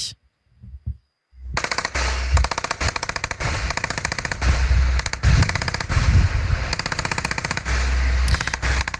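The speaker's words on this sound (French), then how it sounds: "Stéphane, un échange de tirs d'armes automatiques" Outdoor exchange of automatic weapon fire in Israel, long rapid bursts of shots rattling continuously for several seconds, loud and dense, after a brief quieter start.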